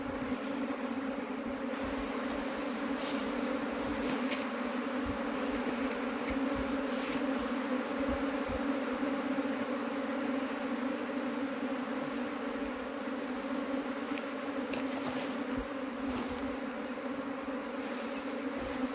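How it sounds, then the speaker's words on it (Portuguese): Apis honey bees buzzing steadily as they enter a hive box set in partial shade under a small tree, a continuous dense drone with scattered brief louder passes of individual bees close by. "As abelhas já entrando."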